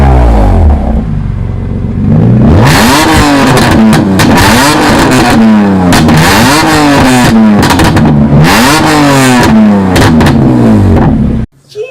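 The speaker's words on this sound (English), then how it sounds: "I think it's the loudest exhaust I've ever heard." A BMW E46 M3 with a Rogue Engineering mid-pipe exhaust revs hard and very loud nearby, repeated sweeping climbs and drops in pitch with a raspy crackling tone, cutting off sharply at the end.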